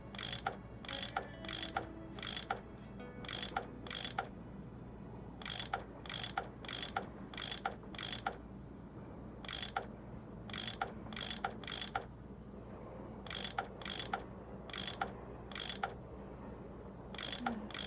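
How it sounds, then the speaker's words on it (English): A ratchet tool unscrews bolts in the Nancy Drew game Last Train to Blue Moon Canyon, rapid clicking bursts repeated steadily throughout, crisp and close over a faint background hum. "I bet that's what you use to unscrew these bolts."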